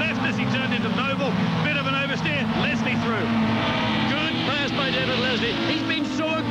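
Touring race cars roar past in the ToCA BTCC 1999 racing video game at Thruxton, heading into Church Corner, their engines loud with rising and falling whines as they pass. A commentator talks over the engines.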